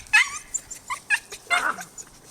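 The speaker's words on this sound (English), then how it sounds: "So this is an incredible pair of dogs." A pair of sibling Norwegian Elkhound dogs whimper and yip close by in a string of short, high-pitched cries and squeals with brief pauses between them.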